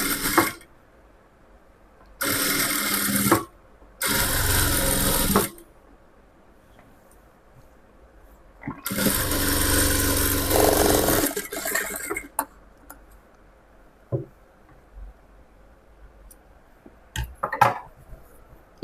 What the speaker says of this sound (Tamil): இந்த மாதிரி கரெக்டாக அந்த வளைவுக்கெல்லாம் கொஞ்சம் இழுத்து வச்சு தைக்கணும்.